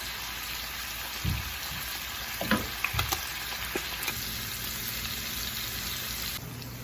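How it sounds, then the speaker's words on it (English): Shrimp sizzling in a pan with citrusy garlic, a steady close frying hiss with a few brief stirring clatters, no talking. "So now I'm cooking the shrimp, and I'm using this citrusy garlic."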